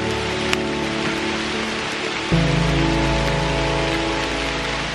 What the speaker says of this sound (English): Absolutely flogging down rain at the moment, guys.